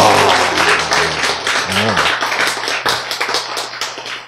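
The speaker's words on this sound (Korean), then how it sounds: "박수!" Lecture audience clapping in a hall, a sustained round of hand claps with a speaker's voice briefly audible at the start, fairly loud and even throughout.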